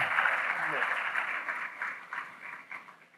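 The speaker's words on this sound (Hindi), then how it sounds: "इनके लिए एक बार जोरदार ताली बजाइए भाई" Audience applause at a literature festival talk, a dense burst of clapping that starts strong and gradually thins and fades over a few seconds, with no speech over it.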